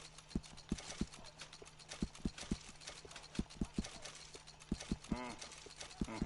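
Horse hooves clip-clop at a steady walking rhythm in Red Dead Redemption 2, clear and fairly near, with faint mechanical clicks and a brief bit of speech or whinny toward the end.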